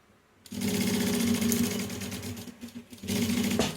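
A sewing machine stitches the binding on a waterproof roll-up pouch in two loud, steady motor-driven runs with a brief uneven pause between them, close and alone with no talking.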